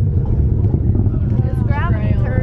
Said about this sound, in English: The RD-180 is now beginning to throttle up.